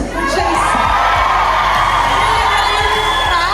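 A big concert crowd in London roars and cheers without letup, a dense wall of shouts and whoops with a steady thumping beat underneath, loud and close.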